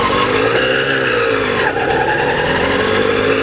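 A DKW Hummel motorcycle on a two-up test ride drones with a loud, steady engine note that rises slightly in pitch, heard up close without any talking.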